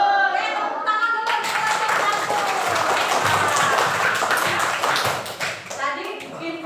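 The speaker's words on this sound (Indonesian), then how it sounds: "Tepuk tangan dulu." Primary school pupils in an Indonesian classroom clap together in a dense burst of applause lasting several seconds, mixed with children's voices and chatter, then fading as talk resumes.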